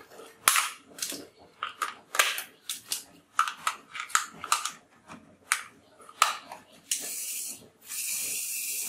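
A string of sharp pops from an ACP Bulldog toy revolver fired in irregular bursts, close and loud, followed by a couple of seconds of steady hissing.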